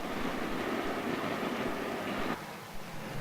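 A train approaching Canterbury West Station rolls over a treadle set between the rails, a steady broadband rumble and rattle that drops in level partway through.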